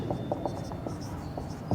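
Chalk or marker scratches notes onto a board in a quick run of short, dry strokes, close and fairly quiet, with no one talking.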